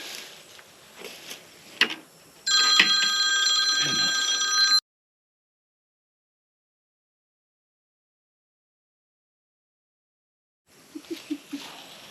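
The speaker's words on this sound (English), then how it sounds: "my stupid phone keeps ringing" A mobile phone rings with a bright electronic trill for about two seconds outdoors, at a windmill-to-solar conversion job in Stratford, Oklahoma. Scattered light knocks come before it, a long silence follows, and faint sounds return at the end.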